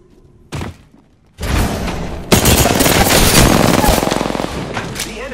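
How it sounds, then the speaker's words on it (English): Enemy gunfire in an Apex Legends match: a short isolated shot, then a sustained loud barrage of rapid automatic fire with heavy impacts, close and intense for several seconds. "The enemies are shooting at me."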